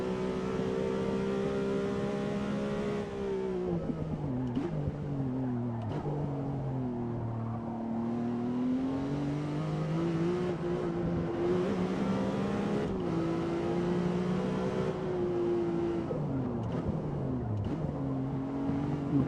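A McLaren Artura V6 engine revs and pulls hard in Gran Turismo 7, its sustained tone rising and falling through the gears for the whole stretch, loud and continuous with no talk over it.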